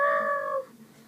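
A short, close cat meow, a drawn-out whiny cry that stops abruptly, followed by quiet room sound.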